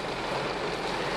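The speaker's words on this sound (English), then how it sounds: "it is absolutely pouring the rain" Heavy rain pours steadily at an outdoor festival, a dense, even hiss of drops across the brief stretch with no breaks.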